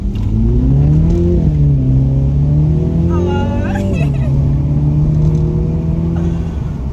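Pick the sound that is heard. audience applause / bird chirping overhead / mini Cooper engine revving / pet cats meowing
mini Cooper engine revving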